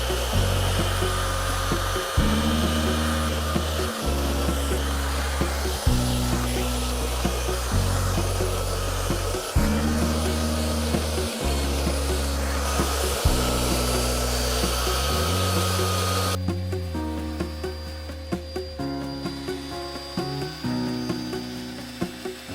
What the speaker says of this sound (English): That's why we're going to sand it. So we'll give it a go over. I've got 80 grit in here to start with